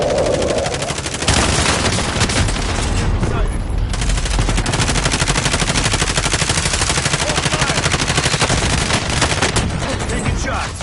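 Rapid automatic gunfire in Warzone rattles almost continuously for about ten seconds, loud and close, dense bursts with a brief lull near the start.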